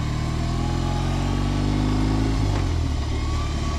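A 2022 BMW R18 motorcycle's engine runs steadily while riding, a loud, close, deep pulsing drone with a low rumble, shifting slightly near the end, with no talking.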